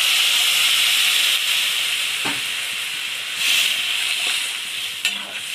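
Water hits a hot pan of frying taro stolon curry, setting off a steady, loud sizzle and hiss that holds throughout with small bubbling pops, with no voices.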